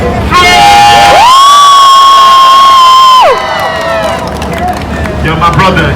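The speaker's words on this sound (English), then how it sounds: "On the count of three, clapping, yelling, and screaming" A crowd watching Times Square street dancers cheers and screams at full volume. One piercing, sustained shriek rises above the roar, then the yelling and clapping continue more loosely.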